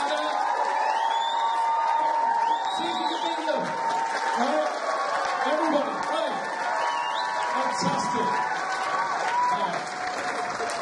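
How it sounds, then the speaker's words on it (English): Large awards-night crowd cheering and clapping continuously and loudly, whoops and shouts rising over sustained applause, with voices mixed in throughout. "And start cheering, making some noise. You just start clapping slowly"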